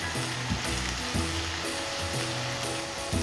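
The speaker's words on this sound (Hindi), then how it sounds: "तीन मिनट तक प्याज को ऑयल के अंदर अच्छा सा फ्राई करेंगे" Onions fry in oil for chicken karahi, giving a continuous close sizzle with soft rhythmic stirring scrapes underneath, and no voices.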